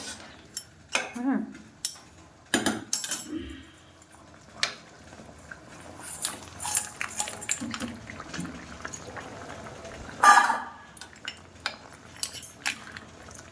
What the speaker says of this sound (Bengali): তো বন্ধুরা দেখো ঝোল ফুটে গেছে, এখন দিয়ে দেবো কাঁকড়া মাছগুলো